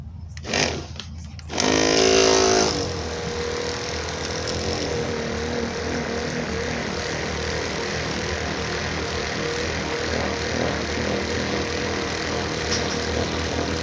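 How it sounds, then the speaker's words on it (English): An electric buffer wrapped in carpet polishes aluminum diamond plate on a travel trailer. Short bursts open as it starts, then a loud whir surges and settles into a steady, droning grind that continues to the end. "So I just kind of wrap it around the buffer like that."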